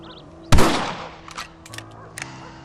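A sharp, loud rifle shot in the Western game Red Dead Redemption cracks out and rings off, followed by a few fainter, distant shots scattered through the rest of the moment.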